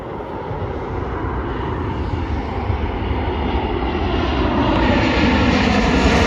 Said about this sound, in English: Southwest Airlines Boeing 737-700 coming from Phoenix